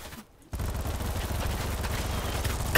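Rapid automatic gunfire in the video game Battlebit starts abruptly after a brief pause and stays as a dense, continuous rattle of shots that grows louder toward the end.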